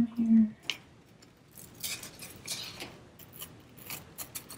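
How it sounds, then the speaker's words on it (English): Scissors snip through paper in a few short, quiet cuts with small clicking blade sounds, close by and otherwise fairly still. "And I'm going to trim on either side."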